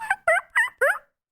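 A human voice imitating turkey toms gobbling in the roost tree, four quick rising-and-falling yelps in a tight rhythm, loud and close with no other sound.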